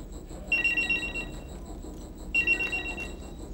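A pager or telephone rings with two short electronic trilling bursts about two seconds apart, close and clear over a quiet indoor background.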